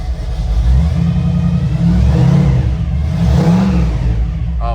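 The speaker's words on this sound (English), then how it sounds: "And I'm going to give it one kick. It's a great running truck. It fires right up every time." A 1966 Ford F100 truck engine runs just after a cold start, a loud close rumbling idle with low-end throb and a few revs swelling and easing, no talk.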